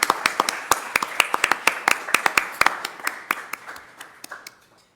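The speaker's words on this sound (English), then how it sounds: "Let's give Trish a big round of applause." A school board meeting audience claps as sharp, separate hand claps in an uneven rhythm, fairly close, gradually thinning and fading out over a few seconds with no talking.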